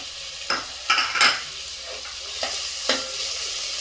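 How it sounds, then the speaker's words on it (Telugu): Chopped onions hitting hot oil in a pan for chicken pulao, sharp sizzling bursts with a few clinks of a spoon stirring against the pan over a constant frying hiss, close up, no talking. "చాప్ చేసి తరిగి పెట్టుకున్నాం కదా ఉల్లిపాయలు, అవి వేసుకుందాం."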